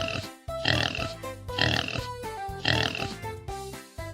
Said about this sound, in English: You nailed it. It's a pig.